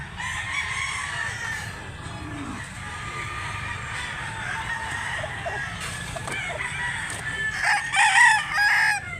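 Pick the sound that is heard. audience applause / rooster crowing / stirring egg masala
rooster crowing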